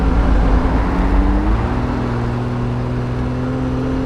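A 1976 Triumph TR6 with overdrive pulls hard under acceleration, a close, steady engine drone whose pitch climbs gradually after a brief shift, loud throughout with no talk.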